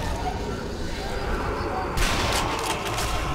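Gunfire in the video game Sniper Elite: Nazi Zombie Army bursts out abruptly partway through, a loud crackling volley over continuous game background noise.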